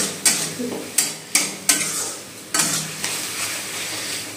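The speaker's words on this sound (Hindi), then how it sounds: "देखिए इधर जीरा चावल बन रहा है" Jeera (cumin) rice cooking in a pan, sharp spoon scrapes and clanks against the metal every half second or so over a low sizzle, close and fairly loud, without talk.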